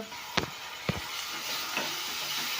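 Green chilli and ginger garlic paste fry in a pan with a constant soft sizzle, broken by two sharp clinks of a utensil stirring near the start.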